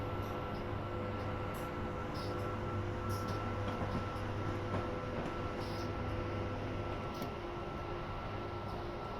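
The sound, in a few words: trains arriving at a station in a train video game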